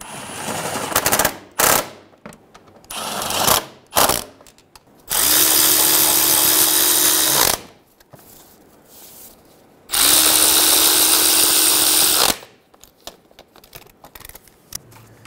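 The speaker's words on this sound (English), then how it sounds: "Snug the bolts down." Bolts being snugged down on a 2011–2014 Hyundai Sonata: two loud, sustained mechanical bursts of about two seconds each, close by, separated by clanks, clicks and quieter workshop handling noises.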